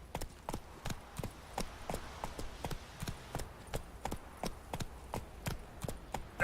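Roach the horse's hooves clop along in The Witcher 3 as a steady, evenly spaced trot. The hoofbeats sound clear and close over a quiet background, with no talk.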